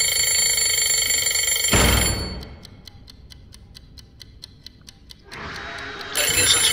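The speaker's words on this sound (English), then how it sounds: "I guess that's why they call it an egg timer." A ticking egg timer in the horror video game Monstrum clicks steadily after loud ringing cuts off, then a shrill bell ring breaks in again over the ticking.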